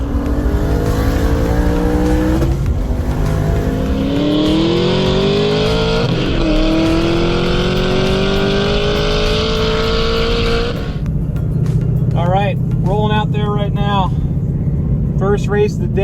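A turbocharged stick-shift Mustang's loud engine roars and climbs through gears at close range during a race, rising in pitch, then cuts to a lower drone as chirping whistles sound near the end.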